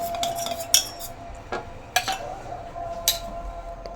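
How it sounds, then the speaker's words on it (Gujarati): Spoon stirring gram flour and buttermilk kadhi batter in a metal pot, with light scraping and sharp clinks against the side at irregular intervals, close and fairly quiet. "આપણે ધીરે ધીરે એમાં હલાવતા જ રહીશું"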